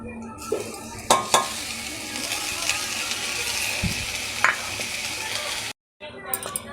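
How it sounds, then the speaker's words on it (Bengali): Ginger paste hits a hot pan of oil while cooking dalia khichuri, with a steady close sizzle and scraping stirs and spoon clacks throughout, ending in a brief gap of silence. "এখন আদা বাটা দিয়ে দিচ্ছি।"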